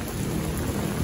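Heavy typhoon rain pours down in the afternoon with rumbling thunder, a dense, continuous roar of rain hitting surfaces under a low thunder rumble, loud and enveloping with no voices.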